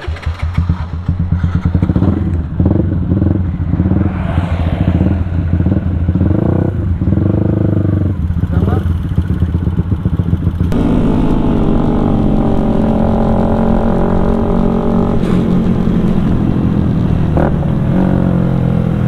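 A Yamaha MX King motorcycle with a 175cc engine runs up close and loud, revving repeatedly in rising and falling bursts before settling into a steady, higher held roar.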